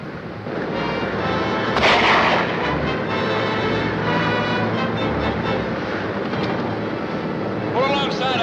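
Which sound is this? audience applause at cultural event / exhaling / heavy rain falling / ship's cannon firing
ship's cannon firing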